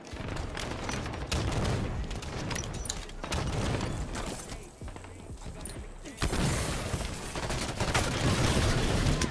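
Dense Halo 3 weapon fire in a Halo 5 multiplayer match, with rapid overlapping bursts running loud and nearly continuous, dipping briefly before surging again near the end.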